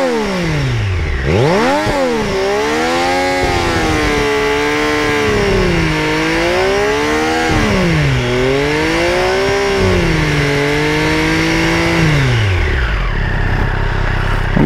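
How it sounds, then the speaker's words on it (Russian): A 2020 Triumph Street Triple RS motorcycle revs through its exhaust, loud and close, rising and falling in repeated throttle blips over a steady idle, with no talking. "Глушитель просто великолепный."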